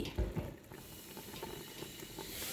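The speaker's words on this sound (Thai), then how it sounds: "ก็เคี่ยวไปเรื่อย ๆนะคะ จนกว่าจะเสร็จค่ะ จนกว่าจะได้ที่" Candied lime syrup simmers in a pot, giving a faint, continuous bubbling hiss with a few soft low bumps near the start and no voices.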